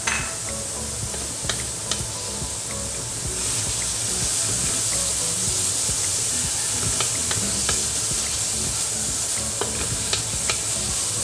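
Shrimp paste sautéing in a pan, a continuous loud sizzle and crackle with occasional stirring scrapes and clinks, no talking.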